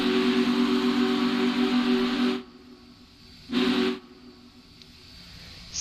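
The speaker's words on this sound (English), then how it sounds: "I don't know how to quill the whistle on this one." A steam train whistle in a video game gives a loud, sustained hissing blast of a couple of seconds, then stops, followed by a second short toot and quiet.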